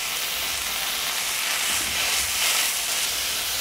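Green chillies sautéing in a hot pan give a continuous close sizzle and hiss that stays even throughout the short stretch, with no voices.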